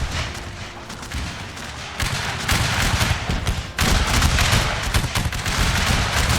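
Dense, continuous crackle of massed musket volleys in Total War Shogun 2, a large American Civil War battle with thousands of soldiers, rolling and overlapping at a distance with no pauses and no voices.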